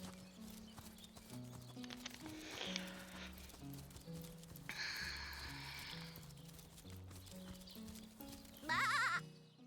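Sheep bleat several times in the video game Divinity: Original Sin over a looping background melody, with a brief louder burst of sound near the end.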